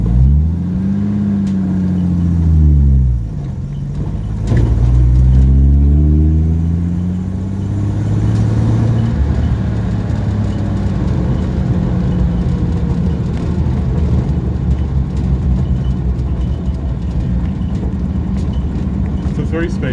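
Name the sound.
1937 Dodge panel van engine driving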